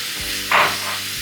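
Milk poured into a hot karahi of chicken white karahi sets off one brief, loud burst of sizzling hiss over a steady low background.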